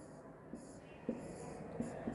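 A sentence is written out during a Hindi grammar lesson, a faint, soft scratching of writing with a few light taps, very quiet and close.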